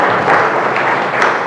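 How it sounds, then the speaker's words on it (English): Loud, dense applause from a lecture audience at an inaugural professorial lecture, a continuous wash of clapping throughout the short stretch. "And I think that's truly remarkable and deserves a round of applause"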